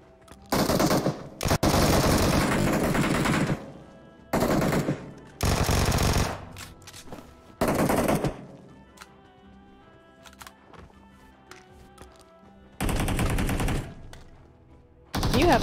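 Loud bursts of automatic rifle fire in the mobile battle royale game PUBG Mobile, several rapid volleys separated by short lulls of quieter game ambience, with no talking.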